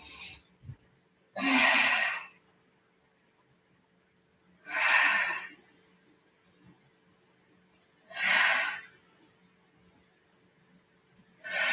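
Slow, deep breathing during a Pilates exercise class: four long, breathy exhales spaced a few seconds apart, close and fairly loud, with quiet gaps between them and no talking.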